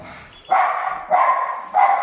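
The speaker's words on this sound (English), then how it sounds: "sorry about the dogs." Three bursts of dog barking, each a short cluster of sharp barks separated by brief pauses, fairly close and loud, with no talking.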